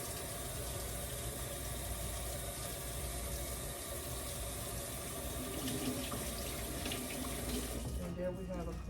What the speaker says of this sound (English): that's really all you have to do to get that off is run it under some water.